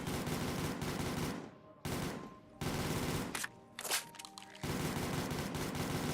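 Vector SMG firing in Black Ops 3 Zombies, dense sustained automatic bursts with two brief pauses, loud and continuous.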